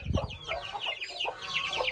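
Soft, continuous clucking and peeping from a hen and small chicks close by, busy and overlapping, with no voices.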